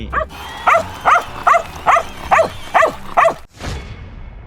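A rescue dog barks about seven times in a steady rhythm, loud and close, followed by a brief rustling noise.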